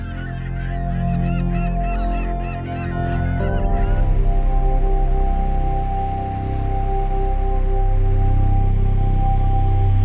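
Seabirds on Fugloy in the Faroe Islands call in a loud honking, goose-like chorus over a low, steady wind or boat rumble, with the calls thinning partway through.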